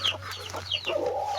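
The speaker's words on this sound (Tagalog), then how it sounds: "Kaganda ng mga sisiw." Chicks and a hen at a large Philippine chicken farm peep and cluck in quick, overlapping bursts, close and fairly loud over a steady low hum.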